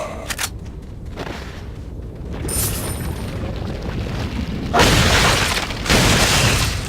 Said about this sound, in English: there were 2 explosions